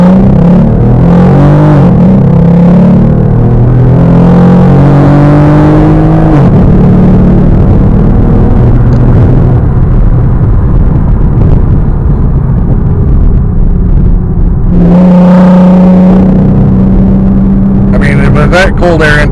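A 2017 Ford Mustang fitted with a cold air intake and aftermarket exhaust accelerates hard, its loud engine note climbing through gears with a rise and drop, then a fresh pull near the end, heard from inside the car.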